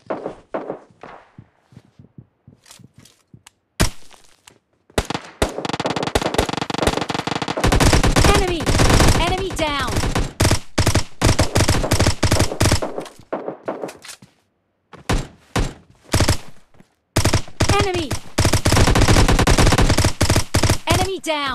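M16A4 rifle fire in PUBG solo versus squad gameplay: loud, close bursts of rapid shots in long sustained strings, separated by brief pauses, with some single cracks and footsteps between volleys.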